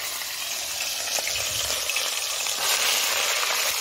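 Steady broadband sizzle of food frying in a home kitchen pan, with faint stirring scrapes, continuous and fairly close.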